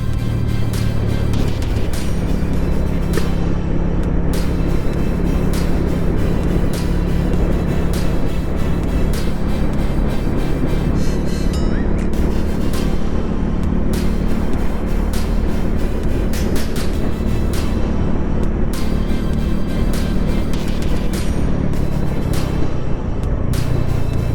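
A Bajaj Dominar 400 single-cylinder motorcycle accelerates hard on Bangkok roads, its loud, close engine drone climbing in pitch through several gears with brief dips at each shift and constant wind rush.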